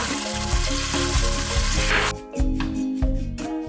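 Ginger and garlic fry loudly in hot oil in a pan with onions and garam masala, making a close, steady crackling sizzle with stirring scrapes and a brief clatter partway through, and no one talking.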